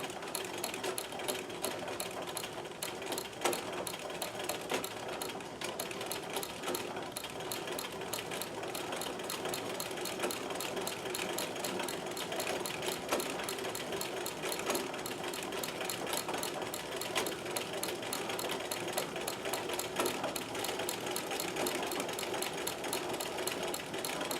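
A Singer 237-M-A sewing machine runs at speed with a fast, even mechanical clatter of the needle, steady and close throughout with no talking.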